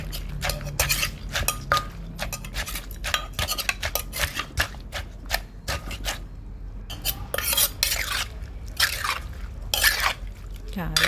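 A pestle pounds tomatoes in a mortar for Thai som tam, giving rapid irregular knocks and wet clinks in bursts, with occasional pauses.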